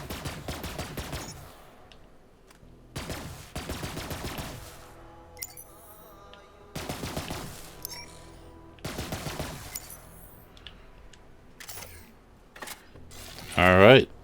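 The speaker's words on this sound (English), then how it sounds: "let's just take a look at this gun and kind of fire it and admire it" Westergun fire in Borderlands 3: loud bursts of rapid gunfire in several separate volleys, each a second or so long, with mechanical clicks and small effects between them and a sharp mechanism sound at the end.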